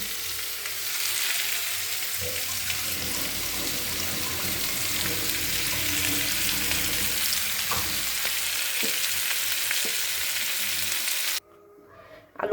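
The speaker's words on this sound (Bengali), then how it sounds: "আলু ভাজতে গিয়ে কড়াইটাই পুড়ে গেল," Potatoes frying in a pan in a home kitchen give a steady, close crackling sizzle with occasional stirring knocks, cutting off abruptly near the end.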